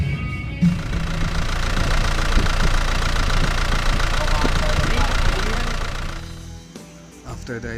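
An Isuzu Sportivo's engine idles while parked at home, a steady close rumble with a knocking texture lasting about six seconds before dropping away, with some voices alongside.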